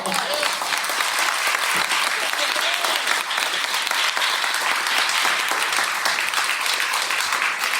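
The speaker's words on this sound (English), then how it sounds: "Let's clap, y'all." Audience clapping at a talk on Black Wall Street, a dense, continuous burst of applause from a large crowd, loud and steady from start to finish.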